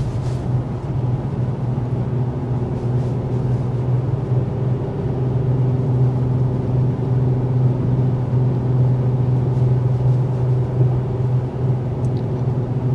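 Cabin of a 2024 Acura TLX Type S turbo V-6 cruising at 55 mph, a steady low road and engine drone with a constant rumble and no talking.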